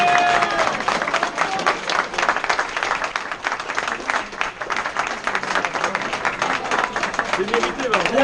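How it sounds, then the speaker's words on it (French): Audience at a youth cycling criterium event applauds steadily and loudly throughout, a dense wash of clapping with crowd noise and some voices mixed in. "je vais vraiment demander des applaudissements hors normes"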